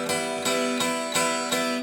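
Five tinny, bright upstrums on an acoustic guitar, each picked with a sharp attack and a brief ring, evenly spaced and played alone at close range.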